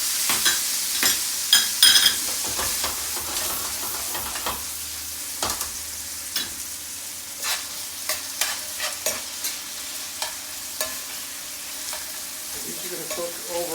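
Artichoke pieces frying in a pan over high heat, a steady sizzle with repeated sharp clicks and scrapes of stirring, close and fairly loud, with no voices.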